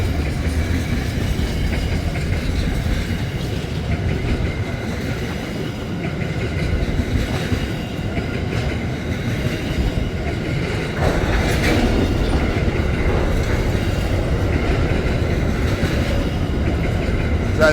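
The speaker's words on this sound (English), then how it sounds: "Here comes the double stack." An Aurizon double-stack freight train rolls past on the Perth to Melbourne line, a loud, sustained rumble of wheels and wagons with rhythmic clacking and occasional faint squeal, close and unbroken.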